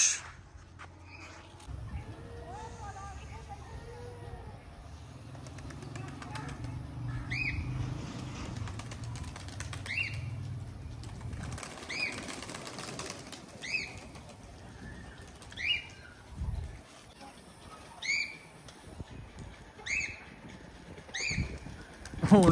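Released pigeons flap their wings in several bursts of beating flight, with soft cooing early on, moderately near and otherwise quiet between the flurries.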